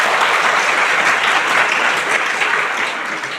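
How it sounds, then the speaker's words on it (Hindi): An audience at a school program applauds children's performance with loud, continuous, dense clapping that holds steady and tapers slightly toward the end. "इन बच्चों के लिए एक बार फिर जोरदार तालियां।"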